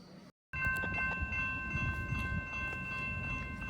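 A Norfolk Southern westbound priority intermodal freight train rumbles past on a scorching morning, its horn holding a steady chord over the low roll of the wheels, with no talking.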